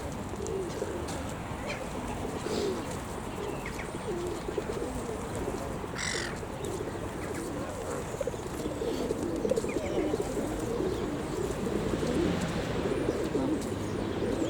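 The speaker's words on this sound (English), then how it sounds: "Pigeons are flying all over." Pigeons coo and flutter among a few geese on an outdoor walk, steady busy ambient bird activity throughout with scattered calls and wingbeats, moderately distant.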